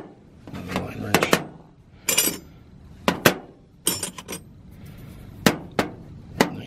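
Vintage Craftsman line wrenches clink and clatter in sharp metallic bursts as they are picked up and set down from an estate auction toolbox, with someone talking in between.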